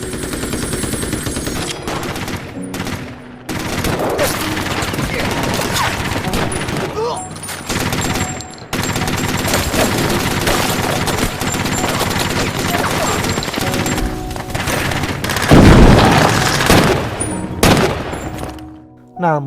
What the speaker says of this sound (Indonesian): Baku tembak terjadi